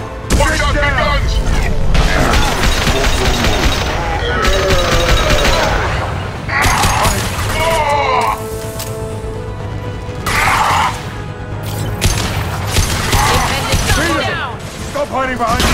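Heavy gunfire in Mass Effect rattles in loud, sustained bursts with booming impacts, close and chaotic, interrupted by brief gaps as the firefight continues throughout.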